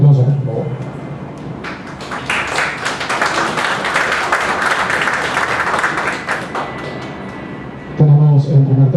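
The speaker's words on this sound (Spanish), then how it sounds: "El aplauso, por favor." An audience at a military engineering conference in Peru breaks into applause for several seconds of dense, even clapping. A speaker talks briefly before the clapping and again as it fades out.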